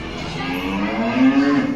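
A cow on a farm gives one long, loud, close moo that rises in strength toward the end, with no talking over it.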